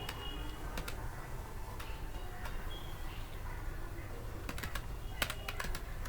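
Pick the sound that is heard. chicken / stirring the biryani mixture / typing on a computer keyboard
typing on a computer keyboard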